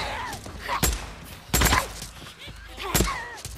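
Gunfire in a zombie survival video game, three sharp broadband bursts spaced about a second apart over a busy game soundscape, with faint player chatter in the background.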